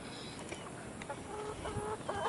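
Rhode Island Red and Rhode Island Dark Mahogany chickens cluck and murmur softly at close range, several short calls scattered over a faint steady background hum.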